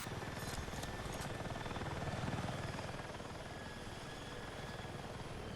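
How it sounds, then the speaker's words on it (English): Helicopter flying in the video game Battlefield 6, a steady whirring rotor and engine drone that holds at constant loudness throughout, swelling slightly midway with no talk over it. "just fly around. And in a minute or 2, you will have unlocked the distance for the helicopter."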